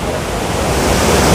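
Large waterfall roaring at Cheeyappara near Munnar, Kerala, in rain: a dense, loud, unbroken rush of water filling the whole sound.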